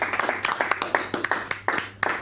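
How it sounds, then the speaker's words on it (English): A round of applause for the camera and studio crew at a Children in Need charity broadcast in a TV studio, with a few people clapping in quick, sharp claps at fairly close range. "can we have a round of applause for everyone behind camera in the gallery and in the studio?"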